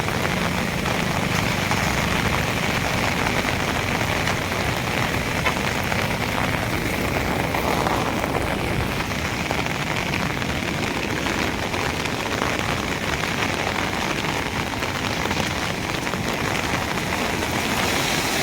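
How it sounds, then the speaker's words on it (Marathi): Heavy rain pours down in Nashik, India, in a steady, dense roar, loud and continuous throughout with no letup and no voices. "खूप मोठ्या प्रमाणात पाऊस होतोय"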